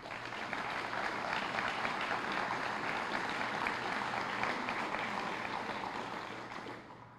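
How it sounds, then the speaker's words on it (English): Audience applause at an Army Corps of Engineers change of command ceremony in Nashville, a dense, even wash of many hands clapping for about seven seconds, fading slightly at the end. "Please join me in a round of applause to commemorate the Corps of Engineers' birthday today."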